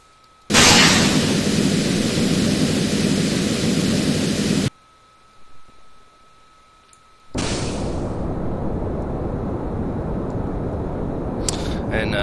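A rocket engine burns in the Kerbal Space Program game, a loud steady roaring hiss that cuts out briefly and then resumes, with a voice talking faintly during the gap.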